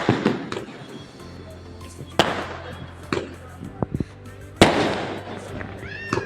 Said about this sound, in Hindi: आतिशबाजी हो रही है हमारे यहाँ पे।